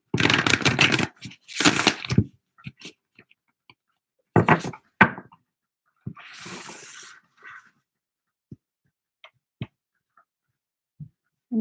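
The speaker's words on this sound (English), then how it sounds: "And then let's do one more shuffle." Tarot cards are shuffled by hand in close, crisp bursts of riffling and flicking, followed by sparse soft taps and clicks as the deck is handled in a quiet room.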